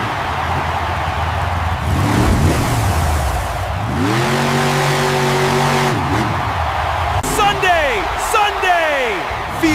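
Grave Digger monster truck roaring as it launches off a jump in a stadium arena: a loud engine rev swelling and falling, with excited talk running over the din throughout.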